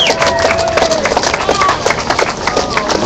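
Outdoor rally crowd of about 100 people in front of a campaign headquarters, cheering and clapping in a steady broadband roar, with scattered voices and claps close by.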